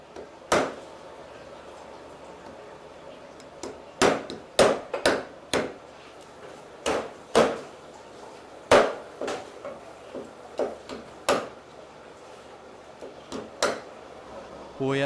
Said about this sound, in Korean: 손질한 참게를 자르고 아내는 탕 국물을 끓인다